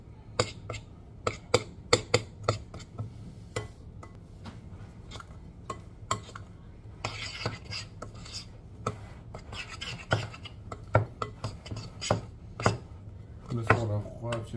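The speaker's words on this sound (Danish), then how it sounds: "Og nu skal vi til at røre rundt i kageblandingen i 3-4 minutter." Brownie batter being stirred by hand in a bowl, with repeated scraping and clinking strokes in an uneven rhythm, fairly close, while a voice talks intermittently over it.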